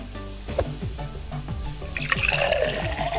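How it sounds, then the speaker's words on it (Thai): Tap water runs into a sink for a quick wash in a home kitchen, a steady splashing stream that swells louder and brighter partway through, over faint clattering of handled items. "เปิดน้ำล้างนั่นแหละครับเร็วๆครับ"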